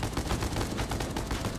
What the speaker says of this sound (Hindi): तो ये तो मशीन गन से फायरिंग कर रहा है।